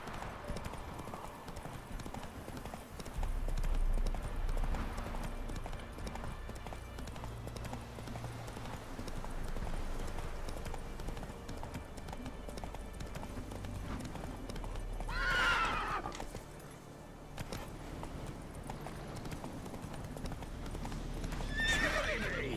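Roach, a horse in the Witcher 3 game, gallops with steady rhythmic clip-clop hoofbeats throughout, broken by a couple of loud whinnying neighs.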